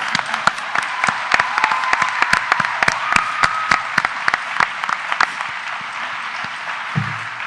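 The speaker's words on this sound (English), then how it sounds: "Can I get a round of applause for her?" Applause from a modest audience, with sharp individual claps standing out over a steady patter; a brief low thump near the end.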